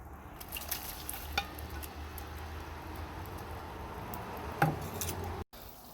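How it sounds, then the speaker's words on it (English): Onions frying for a curry on a Weber charcoal grill, giving a steady soft sizzle throughout with a few faint clinks and stirring scrapes, close by and without talk. "now the onions are starting to brown"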